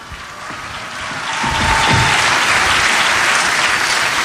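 A murga performance audience at an open-air summer theatre breaks into applause that swells after a second and holds as a loud, dense roar of clapping.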